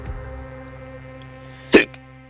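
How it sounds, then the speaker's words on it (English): A single sharp hiccup bursts out near the end, loud and close, after a stretch of quiet room tone with a low steady hum. "There's some mad hiccups."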